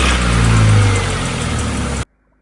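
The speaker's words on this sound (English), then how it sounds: "I'm gonna let this idle for a little while" A Honda Prelude engine runs loud and steady with a low, uneven idle hum, briefly rising in pitch early on after starting, then cutting off abruptly near the end.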